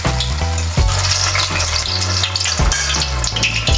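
Flour dough pieces dropping into hot oil, giving a loud, close sizzle with bubbling bursts and a few clinks as each piece goes in, with no talking.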